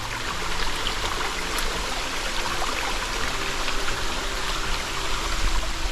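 Boots in Speed Goat 5 hiking shoes wade through a stream on a trail at Hanging Rock State Park, surrounded by a steady close rush and gurgle of flowing water with faint splashy movement, no voices.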